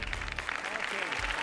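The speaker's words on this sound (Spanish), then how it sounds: "Un aplauso, hombre." Audience applause breaks out for a trained parrot's skating trick at a bird show, a dense clatter of clapping with a voice speaking over it and low rumble underneath.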